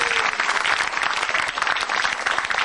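Studio audience at a televised stand-up comedy show in Indonesia breaks into steady, dense applause, loud and sustained throughout with a faint voice underneath.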